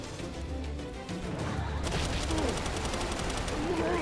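Rapid gunfire from the Palworld video game, dense bursts of shots in quick succession that grow sharper and louder after the first second, with a steady game soundscape underneath.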